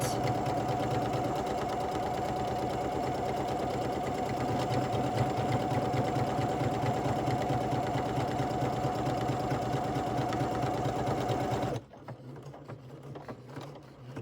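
A sewing machine zigzag-stitches a buttonhole through bulky fabric, a close, steady, rapid mechanical chatter running for several seconds before stopping abruptly, leaving quiet room tone.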